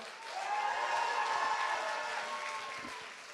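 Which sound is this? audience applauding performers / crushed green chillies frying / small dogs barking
audience applauding performers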